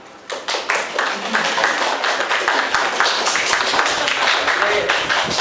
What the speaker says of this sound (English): please give applause to Mr. Galang